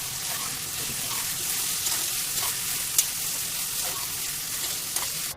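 Sweet pumpkin pieces frying in a pan for bhaji, a steady close sizzle with occasional stirring scrapes and clinks.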